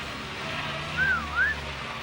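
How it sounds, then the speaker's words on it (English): Two short rising-and-falling whistles, one after the other, clear over a low steady background hum. "Whistle him down."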